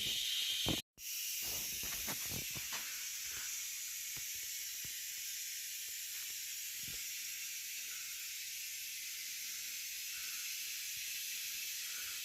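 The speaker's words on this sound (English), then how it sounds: "I am going to use my orbital sander with 120 grit disc" An orbital sander fitted with a 120 grit disc working Bondo filler on a restored X-Men four-player arcade cabinet, giving a steady loud whirring hiss that runs continuously for the whole stretch after a brief cut near the start.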